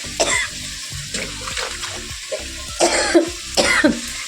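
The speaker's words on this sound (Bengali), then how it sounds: "বেগুনটা একটু ধুয়ে নিলাম" Eggplant being rinsed under running tap water in a home kitchen, the water splashing softly and unevenly, broken by several nearby coughs and throat clearing.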